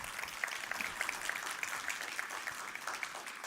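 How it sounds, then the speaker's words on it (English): An audience at a startup festival pitch competition claps for a judge being introduced, a steady, dense patter of many hands at moderate volume in a hall. "Let's give some applause."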